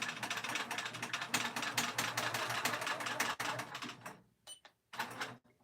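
Sewing machine quilting stitch in the ditch on a small quilted pin keep, a fast steady needle rattle running for several seconds, then stopping and restarting in short bursts, close and fairly quiet.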